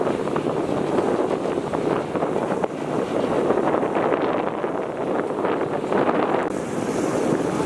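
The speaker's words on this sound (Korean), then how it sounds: "바람이 살랑살랑 불어서 이렇게 땡볕이지만 뜨겁진 않고" Wind blows by the Chao Phraya River in Bangkok on a sunny day, a loud steady rush buffeting the microphone. Faint water and boat noise lie beneath it.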